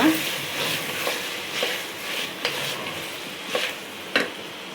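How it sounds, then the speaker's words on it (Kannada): Chopped vegetables for veg pulao frying in a pan, a steady sizzle broken by scraping stirs that land roughly every half second to a second, close and moderately loud with no talking. "ಇವಾಗ ಈ ಹೆಚ್ಕೊಂಡಿದ್ದ ತರಕಾರಿನೆಲ್ಲ ಹಾಕೋತಾ ಇದ್ದೇನೆ. ಇದನ್ನು ಸ್ವಲ್ಪ ಫ್ರೈ ಮಾಡೋಣ."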